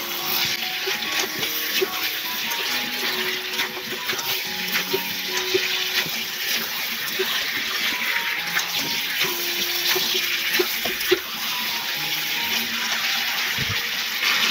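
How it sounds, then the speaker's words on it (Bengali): Water pours steadily into a pot of sautéed duck meat and potatoes, a continuous gushing splash that lasts throughout at a constant level, close by with no speech. "এবার আমি দিয়ে দেবো পরিমাণ মতো জল।"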